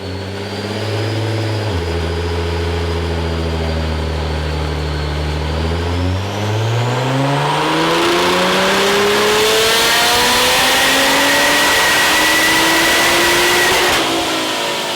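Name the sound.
Nissan R35 GT-R 660HP engine at full throttle on dyno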